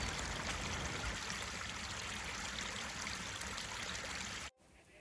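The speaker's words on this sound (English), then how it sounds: "the steady trickle of water" Water trickling and babbling in a woodland stream at Shire Brook Valley, Sheffield, a steady close rush that cuts off abruptly near the end.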